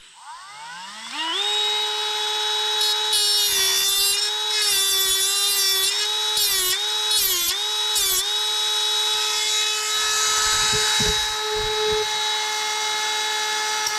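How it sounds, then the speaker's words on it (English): A Dremel rotary tool spins up to a high steady whine and grinds a burr off the edge of a metal part on a vintage Trail Jet mini bike, close and loud, the pitch dipping briefly each time it bites. "So I'll get the Dremel, I'll try to go in kind of like that and get that burr off the edge."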